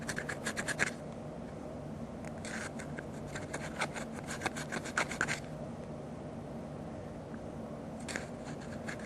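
A Q-tip scrubs corrosion from the battery contacts of an Xbox wireless controller, with close, rapid, gritty scratching in bursts separated by quieter rubbing.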